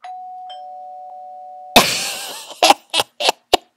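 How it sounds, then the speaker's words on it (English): A two-tone doorbell chimes once, loud and close, rung as a ding-dong-ditch prank, followed by a burst of muffled noise and several short sharp knocks or thuds. "Ding the doorbell and ditch your friends."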